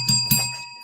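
A bright bell sound effect strikes twice in quick succession, each ding ringing out with a clear sustained tone that fades over half a second, loud and close with no voices.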